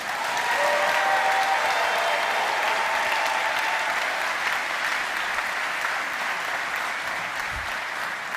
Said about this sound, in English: please greet him with a huge round of applause